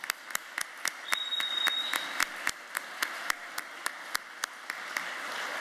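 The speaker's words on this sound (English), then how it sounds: "if we could have a round of applause for all the volunteers who helped put this on" Applause for the volunteers at a community forum on responding to ICE. It is a thin, moderate patter of hands, with a few distinct sharp claps standing out at a steady rhythm over a faint, continuous wash of clapping.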